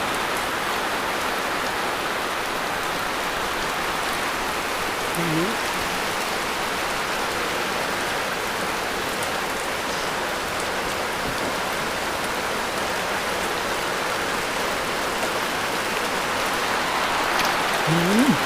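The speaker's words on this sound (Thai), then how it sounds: "ฟังเสียงฝนไปพร้อมพี่น้องเอ้ย" Steady rain falls outside a Thai beef noodle stall, a dense continuous patter at even volume throughout with no talking.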